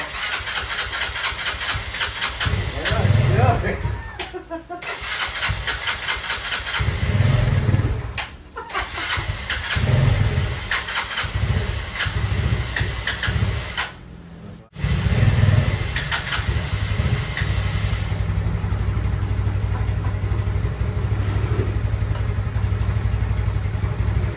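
A Yamaha Nouvo motorcycle engine after a bore-up to 148cc, cranking and catching with uneven revving bursts and brief dropouts before settling into a steady loud idle, close by.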